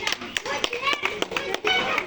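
Scattered, uneven clapping from children and audience at a small school event for 16 December, quick taps over continuous children's voices and crowd chatter.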